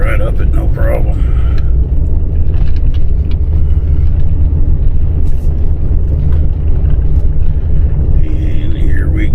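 A pickup truck climbs a gravel-covered driveway, its engine giving a loud, steady low rumble heard from inside the cab that fills the whole stretch with no letup.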